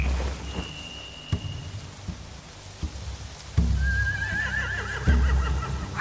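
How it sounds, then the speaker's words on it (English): Horses whinnying in The Walking Dead: The Final Season game, a high neigh early and a longer wavering whinny later, over steady rain-like ambience with occasional thuds. "They have horses."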